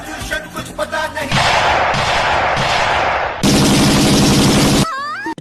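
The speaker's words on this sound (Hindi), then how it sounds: "ये साले उस पे गोलियां चलाने लगते हैं" Loud cartoon gunfire in bursts of rapid rattling shots, several long sustained volleys separated by brief gaps, mixed with blaring horn-like tones and other cartoon sound effects.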